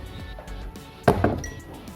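Drinking glass picked up while making homemade Dalgona coffee: a couple of bright, close glassy clinks over a low, steady room noise.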